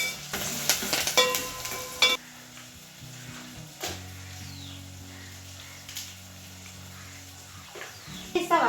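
Tempering for an egg dish fries in a pan with a soft, steady sizzle, broken by clattering utensil knocks at the start and end, while faint talk is heard now and then.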